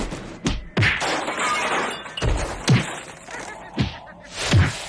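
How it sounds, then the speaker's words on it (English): Punching sound effects from a TikTok-style bit: about six sharp whacks and thuds land at irregular intervals over a steady, noisy bed, loud and close. "It's like she's really punching me. The sound effects line up so well."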